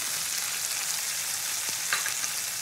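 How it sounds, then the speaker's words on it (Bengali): Spice paste of Kashmiri chilli powder and coriander powder sizzling in hot oil while being stirred for a Bengali fish curry, a steady close hiss with a few small pops and no talk. "এবার এই মশলা কষাতে কষাতে আমি এখানে কাশ্মীরি লঙ্কার গুঁড়ো আর ধনিয়া গুঁড়োটাও দিয়ে দেবো।"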